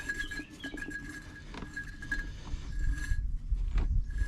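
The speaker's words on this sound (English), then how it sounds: "I'm going to spin the whole housing up first here as I get the bolt started." Hydraulic and transmission filter housing on a John Deere being spun by hand while its bolt is started, giving quiet, close metallic clinks and ratcheting clicks against faint background noise.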